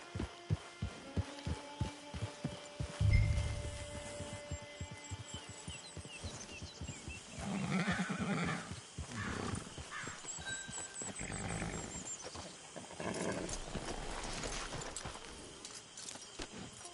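Hooves clip-clop in a steady rhythm as a horse moves in a PS4 video game, with a soft thud and rustling passages and faint game ambience in between.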